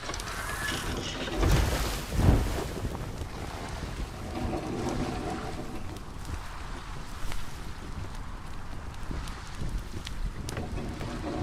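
A ship sails across open water in the video game Atlas, with steady wind rushing over the hull and waves washing alongside. It stays loud and continuous throughout, with a brief surge of splashing early on.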